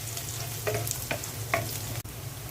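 Black cumin (nigella) seeds dropped into hot oil for a vegetable dish, giving a steady low sizzle with a few brief crackling pops, close and fairly quiet throughout.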